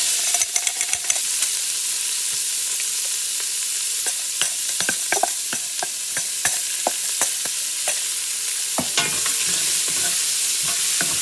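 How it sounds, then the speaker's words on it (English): Onions fry in a pan of oil and grease with a steady loud sizzle, broken by repeated sharp scrapes and clicks of a utensil stirring them, with no talking. "You can see we got some nice oil and grease in there. And the first thing I like to do, add in my onions."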